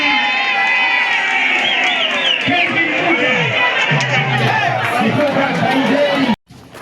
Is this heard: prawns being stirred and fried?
no